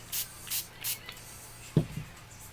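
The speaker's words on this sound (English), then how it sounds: "you're just going to spray your ink right into it" Three short hissing bursts of spray paint ink through a vinyl-cut stencil, evenly spaced, followed by a faint low thump.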